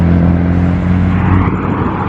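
An air-cooled Volkswagen Beetle pulls away at a classic and sports car meet, its engine a loud, low, throbbing rumble close by that fades slightly as it moves off.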